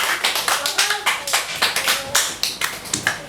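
A church congregation applauds. The clapping is steady, dense and rhythmic, with many hands beating together in a lively pulse, close and loud throughout.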